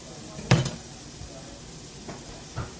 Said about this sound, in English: So now we're going to put the onion in to start cooking.